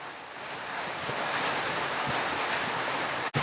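Chopped spinach leaves dropped into a hot pan for a Malayalam-style cheera upperi sizzle and hiss steadily in a broad, even wash, with a brief sharp knock near the end.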